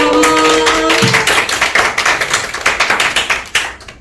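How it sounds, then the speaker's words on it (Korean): An audience at a magic lecture claps to welcome a magician, a steady run of close, sharp handclaps that follows a brief tonal sound at the start and continues evenly to the end. "박수로 맞이해 주세요"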